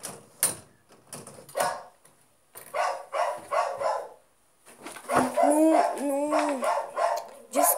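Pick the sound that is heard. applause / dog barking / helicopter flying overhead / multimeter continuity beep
dog barking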